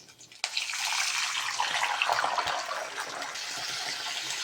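Water pours into a cooking pot over a tempering of spices, a sudden start then a steady, rushing splash that continues throughout, close and moderately loud with no speech.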